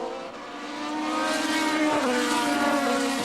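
Formula 3000 race cars battle on a circuit in Germany in 2002, a high, rising engine whine building as the cars close in, with a sharp downshift dip midway before climbing again, loud and near.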